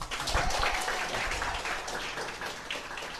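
Audience applause at a business opportunity presentation, a soft, fairly distant patter of clapping over about three seconds.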